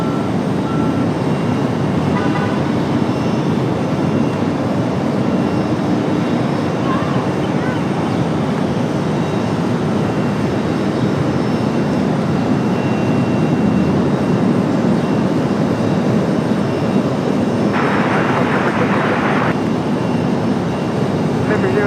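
An airplane at Raleigh-Durham International Airport gives a steady, broad roar that fills the whole stretch, with radio voices talking over it.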